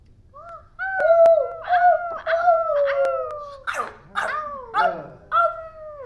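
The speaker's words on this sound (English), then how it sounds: "he heard a rather distinctive bark. It was more like a woof than an actual bark." A dog lets out a series of drawn-out howling woofs and yips, loud and close, one after another with short pauses between.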